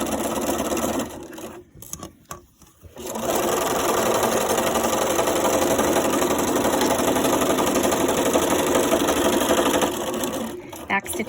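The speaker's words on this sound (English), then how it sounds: "and just finish sewing all the way down." A sewing machine runs steadily and close while stitching the seam of a fabric gift bag, pausing briefly before resuming its continuous whirring hum.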